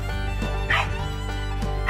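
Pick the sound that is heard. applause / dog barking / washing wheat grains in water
dog barking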